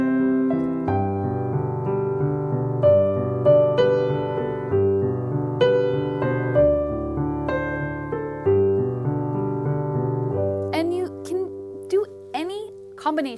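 Piano playing the carol O Holy Night, with the right hand carrying the melody over left-hand broken chords at a slow, steady pace. A voice begins talking over the last few seconds.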